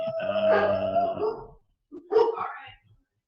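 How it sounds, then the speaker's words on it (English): A dog lets out a drawn-out, wavering howl nearby, then a shorter second howl after a brief pause. "Dogs want me to start already. I can hear him."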